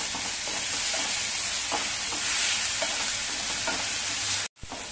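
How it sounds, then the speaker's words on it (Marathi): Ground garlic, green chili and ginger paste sautés in hot oil with carom and cumin seeds, a loud steady sizzle close up with occasional scrapes of stirring, cut off abruptly near the end. "आता आपण लसूण, मिरची आणि आलं वाटून घेतलंय ते घालूया. चांगलं परतवून घेऊया."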